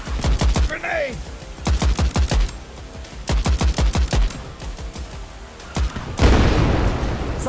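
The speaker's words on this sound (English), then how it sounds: "Grenade!" Rapid bursts of automatic gunfire punctuated by a loud grenade blast in the German-voiced war shooter Ratten Reich, with sharp repeated shots in clustered volleys and a heavier explosion toward the end.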